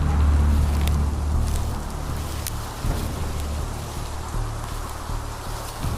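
Steady rain falls in the dark, heard as a dense, continuous hiss and patter with a low rumbling undertone, fairly loud and even throughout with no voices.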